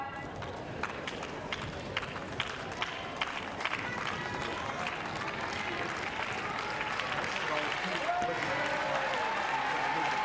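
Crowd at the Domain Tennis Centre in Hobart applauding a women's tennis match, steady dense clapping throughout with a commentator's voice over it.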